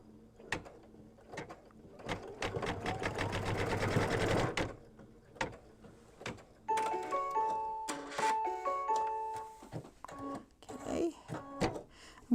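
A sewing machine stitching a seam on a quilted mug rug: a rapid mechanical whir in several short runs, with soft handling clicks and rustles between them, close and fairly quiet.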